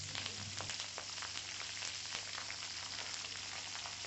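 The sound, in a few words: drumstick leaves (munagaku) frying in a pan on medium flame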